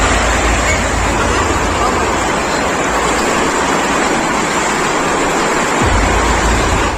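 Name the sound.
flood water flowing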